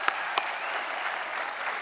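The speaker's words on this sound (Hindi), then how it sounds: "एक बार फिर से तालियां बनती हैं।" A studio audience applauds on a comedy talk show, steady dense clapping at moderate level for a brief stretch, with a couple of sharper claps near the start.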